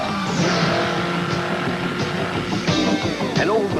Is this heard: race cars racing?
yes